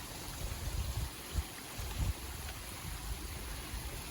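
Small stream at a water crossing on the Appalachian Trail, a soft continuous rushing trickle of water, faint and steady, with a couple of low bumps and no speech.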